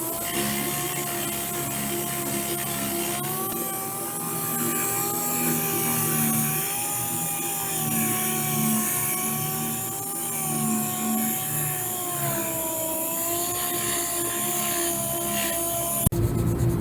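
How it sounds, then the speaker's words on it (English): Steady whirring of a sander smoothing the painted finish of a race car bed trailer, a continuous mechanical drone with a faint wavering pitch, running alone throughout. "We're sanding this down smooth."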